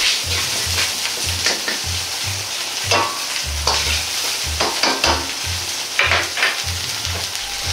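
Ingredients for shiso gapao rice sizzle in a pan under steady stir-frying, with rhythmic scraping and tossing strokes about twice a second, close and continuous.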